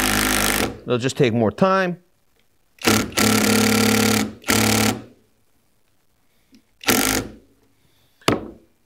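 SKIL 12V PWRCore drill on low speed driving 3-inch screws into wood: loud, close bursts of motor whir a second or two long, with short pauses between them, and someone talking briefly at the start.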